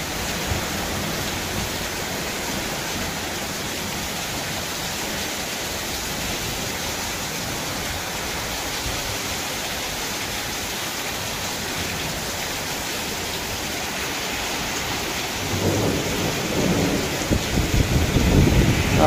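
Heavy rain pours in a steady roar, with wind picking up, and a rumble of thunder swells near the end over the constant downpour; no one speaks.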